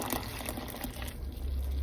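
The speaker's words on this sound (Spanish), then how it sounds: "Le voy a agregar una taza de agua." A cup of water poured into a cooking pot while making a Lenten recipe, giving a steady close gushing and splashing pour that grows fuller toward the end.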